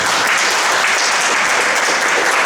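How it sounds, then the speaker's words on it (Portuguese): Church congregation at an Adventist service applauding steadily, a dense, loud wash of clapping that fills the whole stretch without pause. "Eu queria que você recebesse agora uma salva de palmas"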